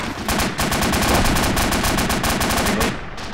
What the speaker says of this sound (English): We're taking auto cannon fire.